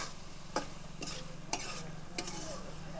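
Drumstick vegetables with slit green chillies for doi posto being stirred in a frying pan: steady low sizzle with four distinct spatula scrapes at roughly even intervals, close and fairly quiet, no talk.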